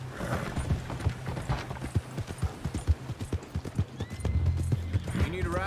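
A horse's hooves clip-clop steadily along the ground in Red Dead Redemption 2, a regular trotting rhythm close up, joined by a whinny near the end, with game dialogue spoken over it.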